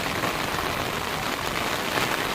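Heavy storm rain pours down on a Tamil Nadu beach at a fish auction, a dense, even hiss of drops hitting the surface, loud and constant with no voices.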